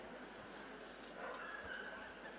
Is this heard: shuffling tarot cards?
no